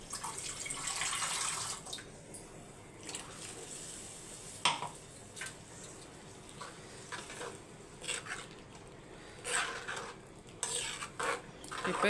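Ground paste is stirred into an egg curry in a pot, a spoon scraping and clinking against the metal in irregular strokes, close and fairly quiet, with a soft bubbling simmer underneath and no talking.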